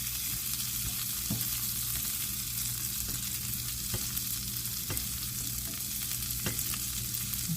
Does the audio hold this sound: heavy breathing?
no